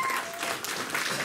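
An audience claps at a cosplay contest at Cleethorpes Comic Con 2017, producing a dense, continuous burst of applause that fills the short moment.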